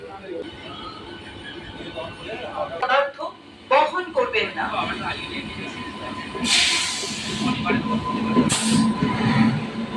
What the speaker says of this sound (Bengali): ডান দিকের লাইন দিয়ে একটি এক্সপ্রেস ট্রেন বেরিয়ে যাচ্ছে